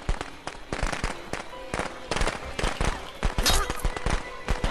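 Firecrackers going off in a rapid, irregular string of sharp cracks and pops, fairly close and loud, crackling on steadily without talk.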